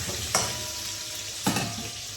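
Potatoes frying in a pan, with a steady, close sizzle throughout and two brief scraping stirs.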